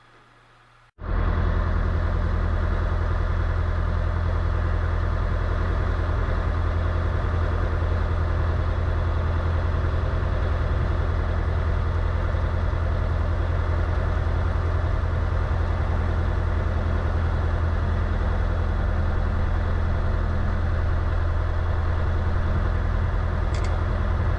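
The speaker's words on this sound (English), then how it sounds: "just taxiing here to holding point November" A light aircraft engine idles while taxiing to a runway holding point, a loud, steady droning rumble that starts abruptly after a second and runs continuously without pause.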